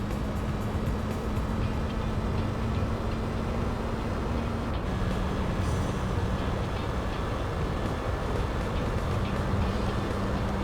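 Engine drone from a car being driven in the racing video game Gran Turismo 4 (Spec-II mod), a steady, dense rumble with shifting tonal hum running continuously and loud throughout, no talk.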